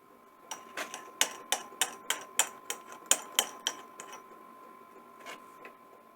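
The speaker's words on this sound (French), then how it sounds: "Perçage." A drill working in steel, heard as a close run of sharp, evenly spaced ticks and knocks, about a dozen over a few seconds, fading out toward the end over a faint steady hum.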